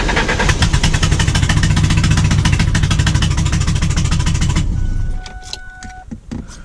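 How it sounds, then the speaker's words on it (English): A $700 twin-turbo Ford Mustang drift car runs loud and steady with a dense, rumbling engine note for several seconds, then drops off abruptly, leaving quieter scattered clanks and faint tones nearby. "All right, so she starts."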